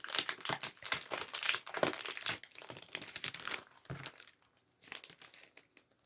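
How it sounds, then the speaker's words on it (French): Loud, busy crinkling of plastic packaging being handled up close, then tapering into a few sparse rustles near the end. "Attention les oreilles, le plastique ça fait du bruit."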